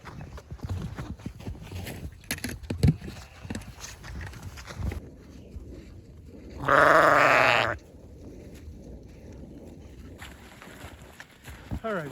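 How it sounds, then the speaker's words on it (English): A sheep on a small farm lets out one loud, wavering bleat partway through, standing out clearly over background movement and scattered voices. "All right, sheep."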